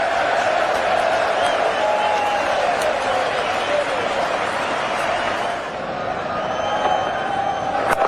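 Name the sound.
cricket crowd cheering a six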